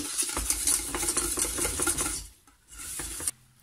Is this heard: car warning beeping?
no